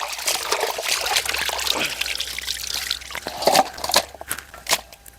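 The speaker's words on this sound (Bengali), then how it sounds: "চিকেন মিনারেল ওয়াটার ভালো করে পরিষ্কার করে নেব" Raw chicken pieces being rinsed in mineral water, with trickling, dribbling splashes and wet squishing of meat handled in the liquid, fairly close and steady with a few louder sloshes near the end.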